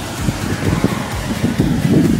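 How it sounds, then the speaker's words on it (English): Strong wind gusting around a climber high up in a swaying tree, a steady low roar with buffeting rumbles against the microphone, loud and continuous with no talking. "the wind's kind of strong, and I can feel the tree rock"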